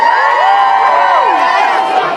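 A crowd of children cheers and shouts loudly and continuously at a pie eating contest, their excited voices overlapping in a bright, sustained roar.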